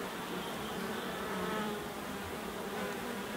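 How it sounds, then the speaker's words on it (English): Dense, steady buzzing of many honey bees close by in a hive, a constant droning hum with no voices. "look at the amount of bees that's going to be in this hive"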